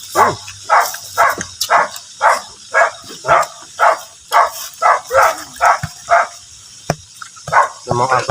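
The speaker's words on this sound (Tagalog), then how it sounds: "Yung mga aso na to." Dogs bark repeatedly in a steady rhythm, about a dozen loud nearby barks with short gaps, over a faint background hiss, during outdoor cooking.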